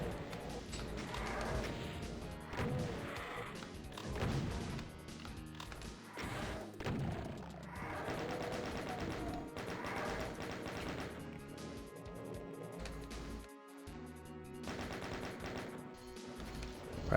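Rocket launcher blasts in Doom 2, with repeated heavy explosions and thuds crashing through a dense, busy game soundtrack, loud and continuous.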